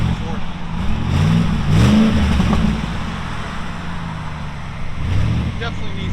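A supercharged 5.4-litre V8 in a 2007 Saleen S331 pickup truck revs with a low rumbling exhaust, rising in a couple of swells before settling, heard close with people talking over it.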